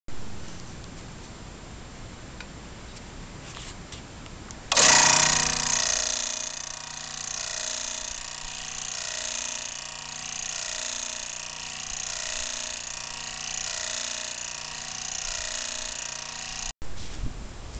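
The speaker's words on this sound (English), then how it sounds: "I'm going to use this scroll saw to cut my template out to mount on my camera." A scroll saw cuts a foam block into a camera-mount template. After a few seconds of quiet room tone, a loud, steady mechanical buzz with a rapid reciprocating chatter starts, runs for about twelve seconds, then cuts off abruptly.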